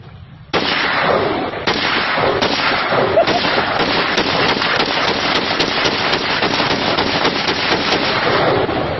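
A gun fires a long run of loud, sharp shots from close by. About fifteen cracks come in quick, fairly regular succession for roughly eight seconds.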